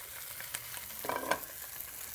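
A whole loup de mer fish crisping in a pan, a soft steady sizzle with a few sharper pops and spatters near the middle, close and fairly quiet, no talking.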